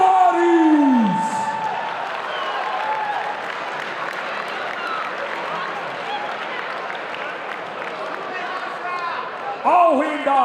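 Audience at a combat sports fight gala applauding: a sustained wash of clapping that swells at the start and fades to a steady level, with an announcer speaking briefly at the beginning and end.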